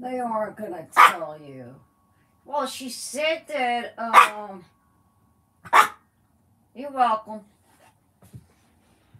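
A pet dog barks indoors in a sharp, loud series of yips and barks, with whimpery tones between bursts and someone talking over and between them.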